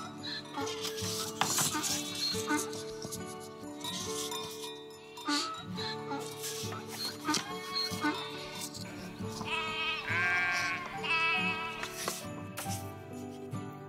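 Lambs bleat in a stable, repeated wavering calls over a busy layer of soft music and speech.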